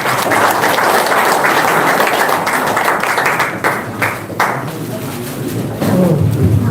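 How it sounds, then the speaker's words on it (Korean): An audience at a lecture on Pocheon's history and culture breaks into sustained applause, dense and steady clapping from many hands that eases toward the end as a voice begins to speak. "오늘 저희 포천의 역사 문화에 대해서 열심히 강의해 주신 윤영상 강사님께 다시 한번 큰 박수 부탁드립니다"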